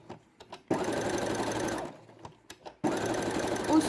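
A sewing machine stitches a round of hook-and-loop velcro onto a felt circle, running in two loud, steady whirring bursts separated by a short pause with a few faint clicks.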